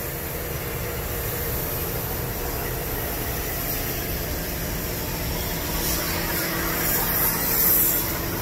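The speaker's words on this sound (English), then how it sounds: "This is their spray room here." Continuous hissing spray noise fills a paint spray room at an audio equipment factory, broad and steady, with a faint mechanical hum underneath and no voices.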